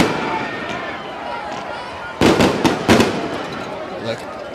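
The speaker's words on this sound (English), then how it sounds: "the fireworks are going off" Fireworks go off at a high school football game, a cluster of loud cracking bursts in quick succession partway through, over a steady crowd and announcer background with talk throughout.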